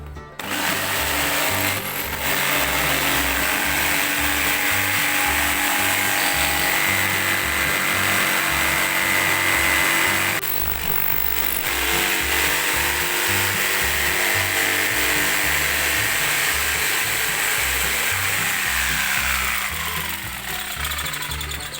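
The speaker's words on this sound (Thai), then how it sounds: "ใบจิ๊กซอใส่เข้าไปเลยนะครับ ก็ ตัดตามนะครับตามวงที่ขีดไว้นะครับ" A jigsaw runs continuously and loudly, a harsh buzzing grind as it cuts a marked circle in wood, with a brief change in pitch partway through.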